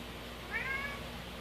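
A house cat gives a single short meow, faint against steady room noise, with no one speaking.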